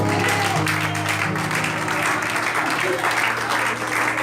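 Church congregation applauding in praise during a French-language service, a loud, dense, sustained wash of clapping with sung or held tones underneath.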